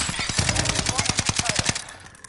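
Rapid automatic gunfire with heavy recoil, likely from a video game, rattles in a fast regular burst of about two dozen close, punchy shots before stopping abruptly.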